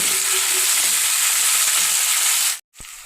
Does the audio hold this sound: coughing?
no